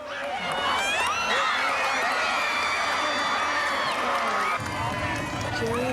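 A crowd screaming and shrieking loudly at Oscars arrivals in 1976, continuous high-pitched cries and whoops close by, with people talking over the din.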